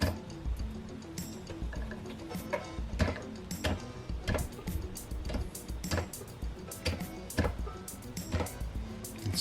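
Vestax PDX 2300 turntable, freshly repaired with a new power switch and speed potentiometer, starting and braking, heard as rhythmic close mechanical ticks and clicks repeating steadily with no talk.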